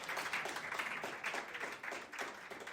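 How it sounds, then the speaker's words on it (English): Colleagues at a closing-remarks gathering applaud together, a soft, distant-sounding roll of many clapping hands that continues evenly without voices. "Let me first ask you to give yourselves a round of applause for surviving."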